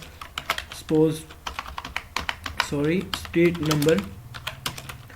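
Street address being typed on a computer keyboard: rapid, light key clicks in a steady patter, close, under someone speaking throughout.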